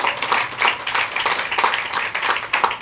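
An audience claps steadily through an entire short stretch as a guest comes onto the stage at a hall event, with dense, even applause and no talk.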